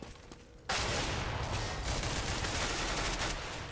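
A decoy grenade in the shooter Counter-Strike: Global Offensive mimics gunfire, bursting suddenly into a loud, dense, continuous rattle of shots that carries on without pause.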